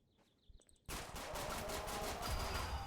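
Sustained automatic gunfire in the survival video game 7 Days to Die bursts in loud and close after a quiet second of faint game tones, rattling continuously to the end.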